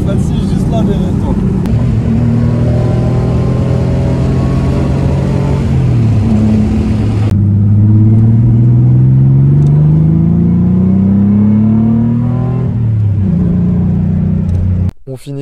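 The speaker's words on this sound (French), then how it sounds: "On finit cette magnifique aventure Petrolheads avec le son de ce beau flat 6." A Porsche flat-six on a classic car run in Dakhla revs loud and close, its pitch sweeping up and down through repeated accelerations before it cuts off abruptly.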